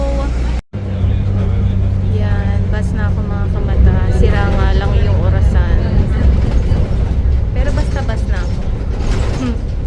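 City bus number 15 pulls up at a stop in Kuwait with a rumbling engine and mechanical whine amid traffic noise, and people talk close by over it.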